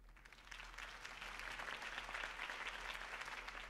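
A crowd applauds steadily in the video game Batman: The Telltale Series, a dense, fairly distant clapping that swells slightly and holds throughout.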